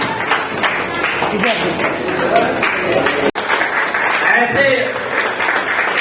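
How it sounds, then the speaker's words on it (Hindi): Sustained applause from a large crowd at a ceremony honouring journalists fills the space, with a voice speaking over it and a brief cut midway. "आप लोग तालियां बजाते रहें"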